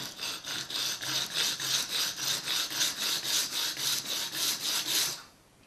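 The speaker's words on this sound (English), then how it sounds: "And now when I go to sand" Wood cutoff board being sanded by hand in a workshop, a steady rhythmic back-and-forth rasping of about a dozen strokes, close and bright, stopping abruptly near the end with no talk.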